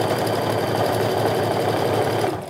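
A sewing machine reinforces stitches on a tote bag, its close, loud, steady whirring needle rhythm running unbroken before easing off at the very end.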